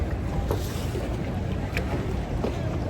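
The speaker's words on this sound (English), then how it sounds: "You've got bloody great big car ferries going across that island over there." Boat traffic on Venice lagoon, with big car ferries and water taxis crossing, comes through as a steady wash of engine rumble, water and wind noise, with a few brief knocks over it.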